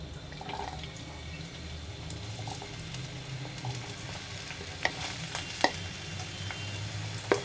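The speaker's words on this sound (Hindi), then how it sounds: "ये तेल गरम हो गया है। अब इसमें हम डालेंगे, सब्जियों को हल्का सा फ्राई कर लेते हैं" Potatoes and mixed vegetables fry in hot oil with a steady, close sizzle, joined by occasional sharp clicks of a spoon or spatula stirring against the pan.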